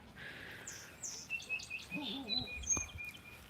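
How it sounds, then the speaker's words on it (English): Wild birds chirp and whistle outdoors on a mountaintop in southeastern Kentucky on a February morning. Several faint, distant calls come in short repeated phrases, with thin high tweets and a brief warbling call against a quiet background. "I can watch the birds flying through the sky."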